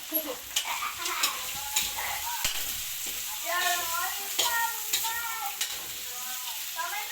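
Liver for pancit goes into a hot pan, a moderate crackling sizzle with rhythmic stirring scrapes and a faint voice murmuring in the background.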